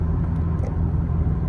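A Ford F-150 pulls an aluminum Featherlite gooseneck trailer downhill, its engine lugging at low RPM in ninth gear with a deep, steady rumble, loud and continuous without speech.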